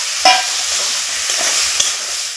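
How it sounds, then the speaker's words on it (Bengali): Onion and garlic sizzle steadily in a hot frying pan while a spoon stirs them, with a couple of sharp scrapes standing out against the continuous close frying hiss. "পেঁয়াজ রসুনগুলো একসাথে দিয়ে দেব। দিয়ে এখন আমি একটু নাড়াচাড়া করে নেব"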